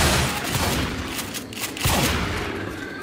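Sustained machine gun fire in Left 4 Dead 2 roars loudly and continuously, with dense rattling shots and a heavier thump partway through.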